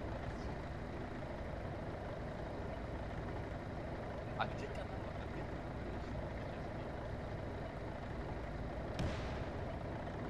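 Low, steady engine rumble and grinding of tanks driving in ArmA 3 with the Iron Front mod, heavy and continuous at moderate distance, with faint squeaks and a couple of brief sharp noises over it.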